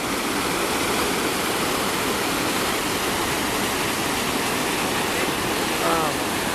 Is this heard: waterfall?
yes